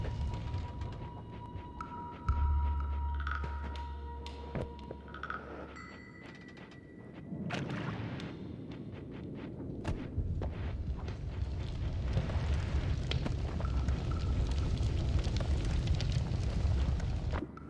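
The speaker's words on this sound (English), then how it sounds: "It's on fire." Fire burning in the Noita game, a dense crackling roar that builds and stays loud through the second half, after earlier game tones and a low rumble.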